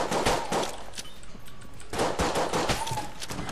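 Rapid, punchy gunfire from a pistol with oversized bullets in the video game Enter the Gungeon, sharp shots recurring in quick bursts through the clip.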